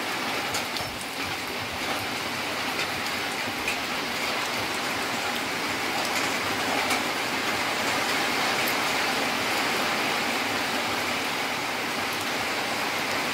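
Steady downpour of a rain shower, a dense even hiss of drops striking surfaces, loud and unbroken across the whole stretch with no voices.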